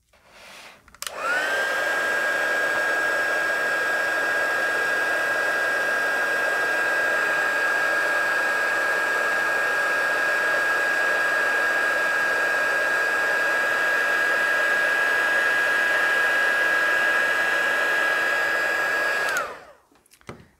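A heat tool blows hot air steadily onto a stamped craft project with gilded leafing, a loud continuous whoosh with a high whine that starts abruptly, holds for nearly twenty seconds alone, then cuts off.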